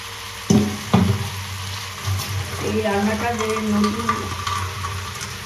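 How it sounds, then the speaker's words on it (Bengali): Cabbage curry with spices being sautéed dry in a pan, with soft sizzling and a few sharp stirring clatters near the start, then steady frying under a humming, voice-like tone. "এবার কষে নিয়ে, কষে বেশ শুকনো শুকনো হয়ে যাবে"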